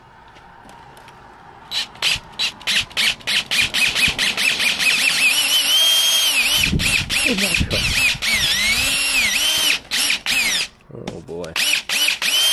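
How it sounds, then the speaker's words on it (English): Loud, close power drill boring pilot holes into a C8 Corvette Z06 plastic bumper, firing in rapid bursts, then running longer with pitch changes as it bites in; a voice speaks briefly amid the whirring. "then we're gonna use the drill"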